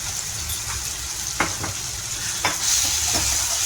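Spice masala for baingan bharta fries in oil as it is stirred, giving a steady close sizzle broken by a few sharp scraping clicks of the spoon against the pan.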